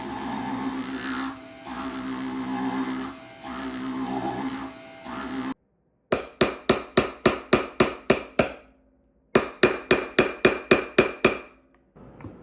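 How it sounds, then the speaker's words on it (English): A metal ring being hammered to size while resized with added sizing stock, heard as runs of sharp, evenly spaced close metallic strikes in two bursts, following a steady grinding whir. "Now we're going to be grinding and hammering the ring to the correct size."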